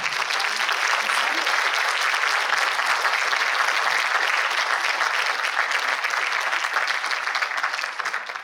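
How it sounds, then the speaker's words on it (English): Sustained applause from an audience at the close of an evening public lecture on addiction, steady and dense throughout, tapering slightly at the end. "Let's thank and give a round of applause to all of our speakers and panelists."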